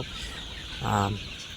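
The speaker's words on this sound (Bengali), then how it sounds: "এখানে যে মুরগিগুলো দেখতেছেন এগুলা মিশরীয় ফার্মি জাত" Egyptian Fayoumi chickens on a farm of about fifteen hundred birds give a single short cluck, faint and brief, over a low steady background hum.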